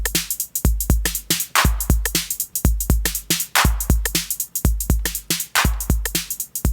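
A punchy drum loop run through Gates tube compressors, its kick and snare hits landing loud and close in a steady, driving rhythm with thick, saturated tails, alone with no talk.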